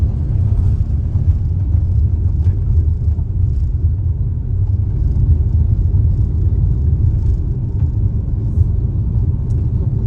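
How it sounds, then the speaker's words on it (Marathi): A car rolls along the road on the way to Jivdani temple, heard from inside as a steady low rumble of engine and tires without pause, with no talk. "आपण किरण पाटीलच्या गाडीने जाणार आहोत"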